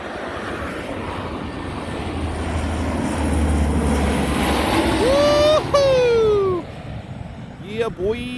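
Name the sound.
propeller cargo plane flying overhead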